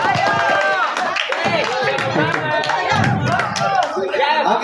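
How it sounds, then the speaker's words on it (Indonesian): An audience applauds at the final of a Quran school quiz competition in Gowa, with scattered claps mixed into loud crowd voices and cheering that run throughout. "Ya, tepuk tangan dulu untuk soal terakhir ya."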